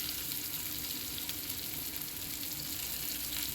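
Chopped onion hisses in oil with panch phoron in a continuous, even, fairly quiet sizzle that holds steady throughout with no talking.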